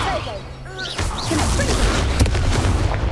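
Spell blasts (Incendio, Accio, Levioso) fire in Hogwarts Legacy, loud whooshing booms and bursts overlapping one another, with a voice calling out over them.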